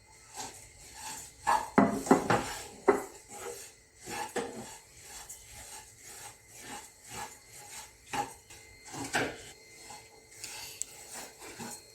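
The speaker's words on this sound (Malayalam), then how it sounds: "ആദ്യം തന്നെ നമുക്ക് ഈ ഓട്സ് ഒന്ന് ഫ്രൈ ചെയ്തെടുക്കാം" Oats dry-roasted in a pan without oil produce quiet, intermittent scraping and rasping strokes of a utensil against the pan, in irregular bursts with short gaps between.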